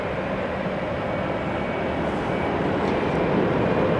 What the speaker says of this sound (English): There's a plane coming. Embraer, Alaska Horizon Air.